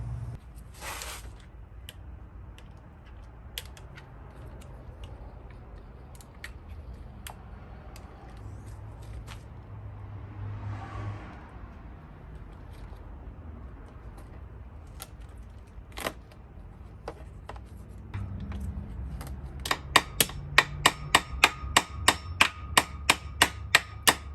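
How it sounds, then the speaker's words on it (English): A torque wrench tightens the thermostat bolts on a 1996 Mercedes W140 S600 Brabus V12 engine. Faint metallic ticks and tool handling build to a quick, sharp series of ratchet clicks near the end. "Let's go ahead and torque these up to spec now."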